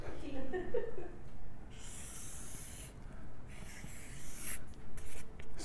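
Pen drawing on paper, a soft scratching and rubbing that comes in short strokes, close and fairly quiet, with a few light breaths and no speech.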